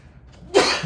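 A single sharp sneeze bursting out after a moment of near silence in a quiet room, loud and brief.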